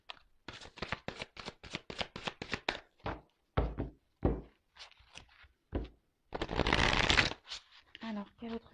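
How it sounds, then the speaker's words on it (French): Tarot cards are shuffled by hand in a quick, steady run of crisp riffling slaps near the microphone. Scattered taps and card handling follow, with a voice talking between them. "Allez, je prends encore quelques cartes."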